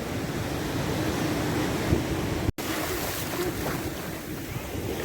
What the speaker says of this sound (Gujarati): અત્યારે દરિયોના મોજા આવે છે